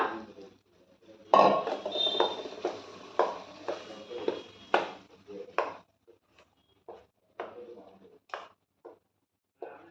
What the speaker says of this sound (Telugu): తాలింపులు వేసుకుని తిప్పుకుందామండి, మొత్తము అంతా బాగా కలిసేటట్టుగా